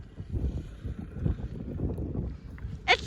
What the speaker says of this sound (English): there's a big wind gust.